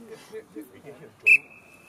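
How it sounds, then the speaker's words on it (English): A single short whistle blast at a sports training session, sharp and fairly close, sounding after a few quiet spoken words and trailing into a steady tone. "On the whistle again."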